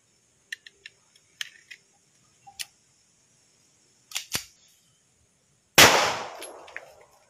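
A single test shot is fired from an R72 gun using live ammunition, a sharp loud report near the end with a ringing decay, preceded by scattered small metallic clicks and handling taps.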